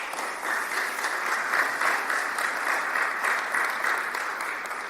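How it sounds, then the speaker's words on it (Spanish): A church congregation breaks into sustained applause praising the Lord, a full and even roar of clapping that swells in after a brief quieter start and holds steady before easing slightly at the end. "Dale un aplauso al Señor."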